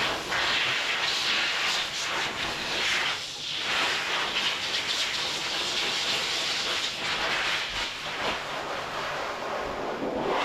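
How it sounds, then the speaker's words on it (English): A blow dryer roars steadily at close range while drying a Yorkie's coat, a continuous broadband hiss with slight swells as the airflow shifts. "I'm going to finish blow drying him and start his haircut"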